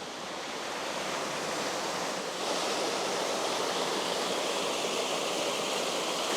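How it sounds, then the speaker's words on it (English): Rushing water roars steadily and loudly, a broad, constant hiss of a waterfall that swells slightly partway through and holds without pause. "There's water, which is always mighty useful for waterfall."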